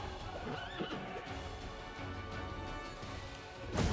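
A horse in the fantasy role-playing game Pathfinder: Wrath of the Righteous gives a clear, shrill whinny amid battle sound effects, alone and without talk.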